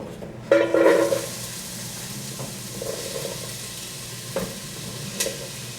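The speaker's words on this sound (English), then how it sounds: "now I'm just going to saute the onion, carrot, and celery" Chopped onion, carrot and celery sautéing in a pan, a steady frying sizzle with a louder burst of stirring and scraping early on, then a few lighter clinks and shuffles as the vegetables are moved around.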